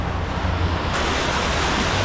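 Water rushing and churning around a river-raft roller coaster at Wonderland amusement park in Amarillo, Texas, a loud continuous roar of splashing flow with wind buffeting, no voices.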